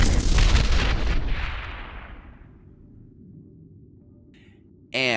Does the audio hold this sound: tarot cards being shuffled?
no